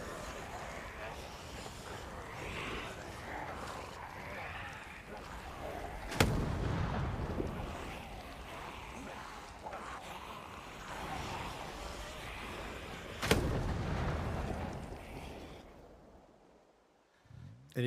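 Pipe bombs exploding in a survival video game, two sharp booming blasts several seconds apart over a steady rushing ambient background, moderately loud, with people talking around them.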